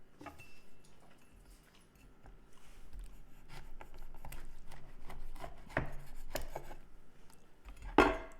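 A knife slicing cured, air-dried biltong beef into bite-sized pieces on a board, a series of quiet, close cutting and chopping taps at an irregular pace with a sharper knock near the end.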